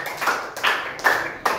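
A small classroom group claps for group A in four slow, loud, close claps, evenly spaced, with no voices.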